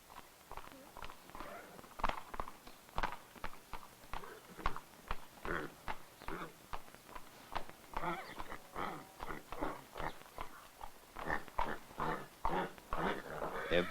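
Mares at an Irish horse breeding farm moving along with rhythmic hoof clip-clop, steady repeated hoof strikes close by, mixed with people talking.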